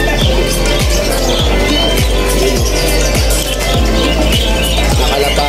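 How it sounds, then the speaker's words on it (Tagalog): Caged birds chirp and tweet over each other at a busy pet market in Malabon, a dense, continuous chorus of close chatter with a steady rhythmic thumping running underneath throughout. "Ang daming ibon."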